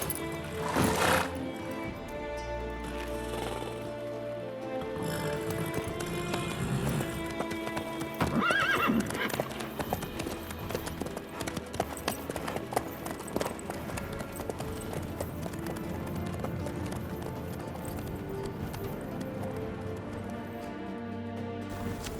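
A horse in The Witcher 3 gallops steadily with rhythmic hoof clip-clops, sometimes whinnying, under a dense layer of game music and ambience for over twenty seconds.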